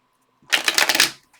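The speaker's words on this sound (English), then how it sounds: "So I'm going to just shuffle." A deck of cards is riffle-shuffled once, close and quick, a burst of rapid crisp flutter lasting under a second.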